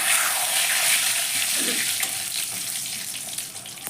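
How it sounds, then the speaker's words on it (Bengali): Cumin seeds, dried chili and bay leaf temper in hot oil with a bright, steady hiss that fades slightly over a few seconds, alongside occasional light crackles. "এবার আমি ফোড়ন দিচ্ছি। জিরে ফোড়ন দিলাম, শুকনো লঙ্কা, তেজপাতা।"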